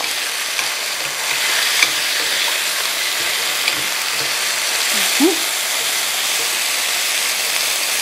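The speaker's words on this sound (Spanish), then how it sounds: "Y ahora vamos a sellar los trocitos de pollo, tan solo a sellarlos porque luego les damos tiempo para que se cocinen." Chicken pieces searing in oil in a frying pan: a loud, steady sizzle that hisses without a break, with a few faint clinks and scrapes of stirring. Close by, with no talking.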